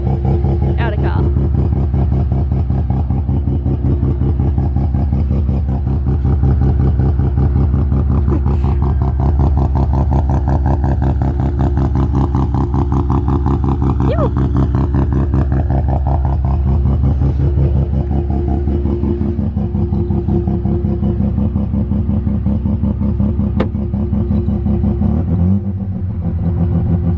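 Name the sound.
Mazda RX-7 rotary engine idling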